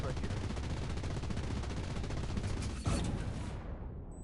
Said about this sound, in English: Amazing explosion.